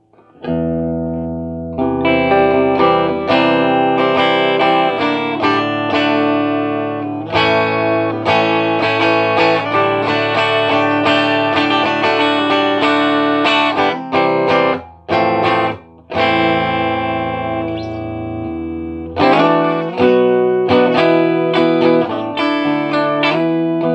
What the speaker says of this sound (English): Take that amp up to 8. Get a little bit of distortion, drive here.